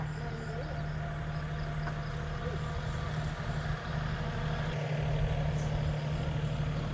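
A farm tractor drives past a rural garden, its steady low engine drone rumbling continuously at a fair distance, fairly faint and with no clear peak.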